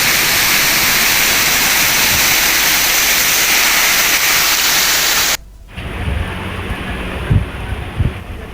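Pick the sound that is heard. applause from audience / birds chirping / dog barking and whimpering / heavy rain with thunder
heavy rain with thunder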